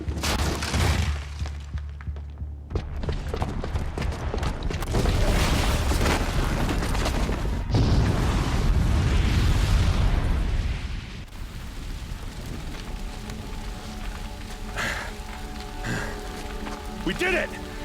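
A bomb explodes in Horizon Zero Dawn, giving a long roaring, rumbling blast with crashing debris that slowly fades into a quieter scene with tonal sounds.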